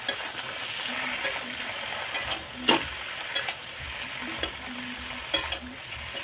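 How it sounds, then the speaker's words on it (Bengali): Spinach fries lightly in a pan with a continuous soft sizzle, punctuated by several sharp clinks and scrapes of a utensil stirring, close up and with no talking. "আমি একটু হালকা ভাজা করবো"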